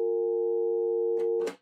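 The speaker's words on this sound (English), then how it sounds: "of course it gave me the dial tone as expected" A landline phone's dial tone, generated by a SLIC module, plays as a steady, clean electronic hum for over a second before a couple of brief clicks cut it off.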